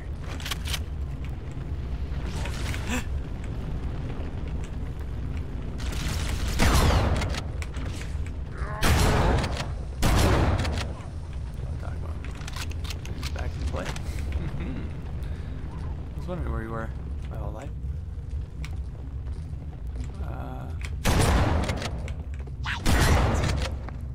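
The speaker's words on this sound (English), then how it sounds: "They're definitely shooting at me." Enemy gunfire in Halo, Master Chief Collection: bursts of heavy shots and booming impacts scattered through the stretch, some loud and close, with a person talking throughout.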